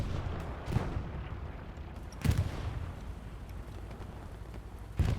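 Heavy gunfire from a tank in the Hell Let Loose World War II game, three separate deep booming shots spread across the clip over a low, rumbling battlefield background.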